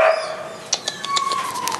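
Small dog giving a few short, sharp yips and barks in quick succession, fairly near, over a faint high whine with no talking.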